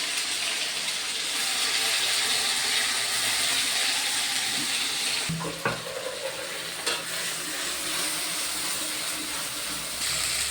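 Spice paste with cumin seeds fries in hot oil, giving a loud continuous sizzle, with a few clatters of a stirring utensil and no pauses.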